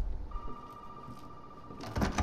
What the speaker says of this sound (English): Have to answer the phone